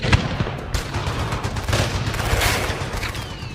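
Sustained bursts of rapid gunfire from attack helicopters firing on mountain army posts, with heavy booming impacts, dense and loud throughout with no voices.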